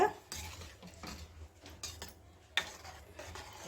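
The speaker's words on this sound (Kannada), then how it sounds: "ಚೆನ್ನಾಗಿ ಮಿಕ್ಸ್ ಮಾಡಿಬಿಡಿ" Metal utensil scraping and clinking against a pan as a milk mixture for milk modak is stirred, in irregular strokes with brief pauses.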